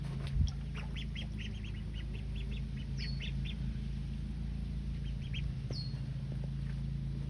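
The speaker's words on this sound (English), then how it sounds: "There's the ducks." Young farm ducks quack in short repeated bursts at a moderate distance over a steady low background hum, with a few scattered calls spread across the stretch.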